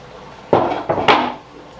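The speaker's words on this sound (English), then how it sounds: "We're going to add in our diced apples" Diced apples tumble into apple pumpkin quick bread batter in a bowl, giving two or three quick, fairly loud knocks and clatters close by in an otherwise quiet kitchen.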